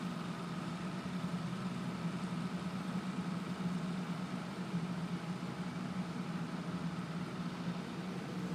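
An axial flux DC pulse motor with two radial coils in parallel and three ferrite magnets spins steadily, a faint, even hum with a constant low drone and no talking.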